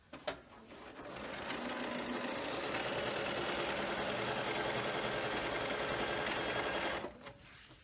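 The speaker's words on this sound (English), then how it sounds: "we're just going to top stitch along the top row. I've got my walking foot on" A sewing machine fitted with a walking foot runs steadily for about six seconds, top stitching along the top row of a frame bag, close and continuous with a brief start and stop at either end.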